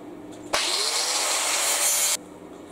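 A saw cuts through material in a single continuous stroke of about a second and a half, a bright rasping scrape that starts and stops abruptly during a garage build.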